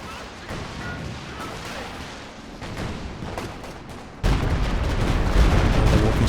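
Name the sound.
walking Stuka rocket barrage in a strategy video game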